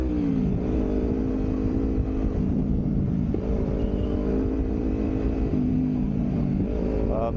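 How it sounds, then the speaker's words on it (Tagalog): Loud, steady motorcycle engine drone while riding from Silay City to Bacolod City, with a constant low rumble and occasional shifts in pitch as the throttle changes. "Sobrang ingay ng ano natin ng motor"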